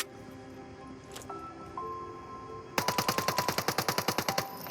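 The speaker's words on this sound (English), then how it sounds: "So just shoot them for XP" Rapid burst of video game gunfire in Qanga as enemies are shot, roughly a dozen sharp evenly spaced shots over the last two seconds, loud and close, after a quieter stretch of game ambience and tones.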